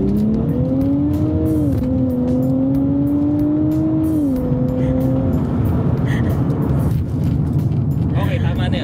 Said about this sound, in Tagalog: Parinig ko lang sa inyo yung makina